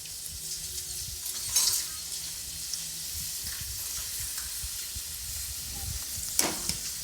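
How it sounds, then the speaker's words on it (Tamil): Wheel chips fry in hot oil with a steady, crackling sizzle, and a couple of sharper stirring scrapes stand out near the start and toward the end. No voices are heard. "அவ்வளோதான், பொரிய ஆரம்பிச்சிடும்."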